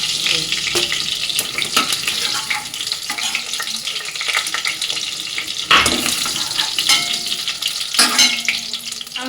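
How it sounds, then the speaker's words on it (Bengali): Marinated chicken fries in hot oil with a loud, steady hiss and crackle, broken by occasional stirring clatter and spatter, near and continuous, with no talking. "মেখে রাখা যে চিকেনটা এবার তেলের মধ্যে ফ্রাই করে নেবো"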